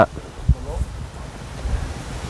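Wind blows outdoors and buffets the microphone with a steady rumbling roar and low gusts.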